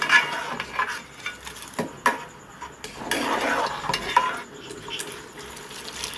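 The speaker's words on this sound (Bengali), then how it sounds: "ভালো করে একটু নেড়ে চেড়ে দেব।" Washed masoor dal being stirred in a pot for vegetable khichdi, with soft scraping and shuffling of a spoon against the pot and a few light clinks, steady and close, no talking.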